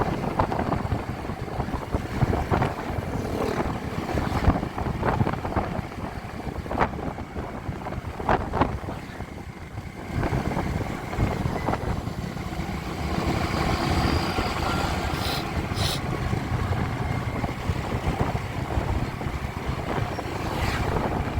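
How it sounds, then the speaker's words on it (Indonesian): Strong wind buffets the microphone during a sunny motorcycle ride around Malioboro, a continuous loud roaring rush with gusty swells over the faint hum of the bike's engine, with no voices. "Ini mataharinya terik sih lur, tapi anginnya kenceng banget lur."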